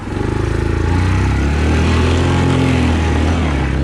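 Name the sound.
Yamaha Kodiak 450 ATV engine on trail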